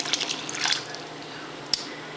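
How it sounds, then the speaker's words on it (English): Water and tomato sauce poured into a pot of beans for Puerto Rican cooking, giving a soft, close liquid splash and drip with one brief sharper spatter near the end. "I'm gonna add the water and the tomato sauce"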